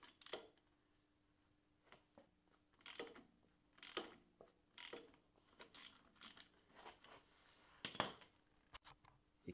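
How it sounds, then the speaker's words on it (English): A puller works off the harmonic balancer of a Volvo XC90 V8 engine during a teardown, making quiet, irregular metallic ratcheting clicks and clanks in scattered bursts nearby. "Here I'm placing a puller on the harmonic balancer."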